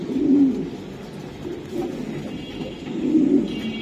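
A racing pigeon kept at a club breeder's loft coos in low, rolling bursts, two fuller phrases framing a softer stretch, close and alone with no talk.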